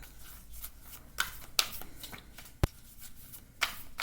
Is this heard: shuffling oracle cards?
yes